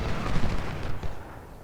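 Heavy Civil War artillery in the Ultimate General: Civil War game booms in a rolling cluster of deep, loud blasts, peaking early then fading into a softer rumbling tail.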